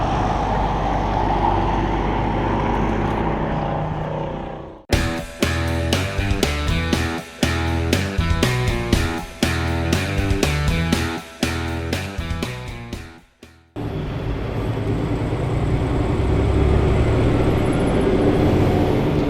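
A truck climbs a Sierra Nevada mountain road with a steady low engine rumble. About five seconds in, a long stretch of rapid, loud staccato pulsing like an engine brake cuts in and then drops back to the smooth drone.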